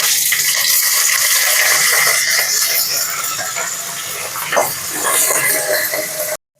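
Gongura (sorrel) leaves are washed in water, with a loud, steady gush of running or sloshing water and a brief splash near the end before it cuts off.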